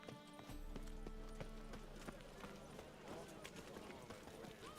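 Horse hooves clip-clopping at a galloping pace in the video game The Witcher 3, a rapid rhythmic run of hoofbeats over game music and ambience.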